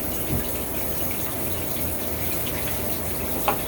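Shower water running steadily, a continuous close hiss and spatter of spray with no pauses and a couple of faint knocks.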